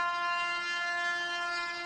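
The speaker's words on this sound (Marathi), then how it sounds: "येते वाटते ट्रेन." A train on a railway line sounds a long, steady, multi-tone horn blast that holds at an even loudness for the whole stretch, with no voices.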